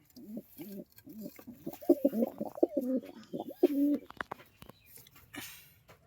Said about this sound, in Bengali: এখানে সব আন্ধ্রা পায়রা আছে